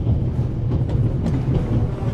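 Steady low rumble of a train running on rails in The Raven video game, a continuous rolling drone with faint clicks and rattles, close and fairly loud with no voices.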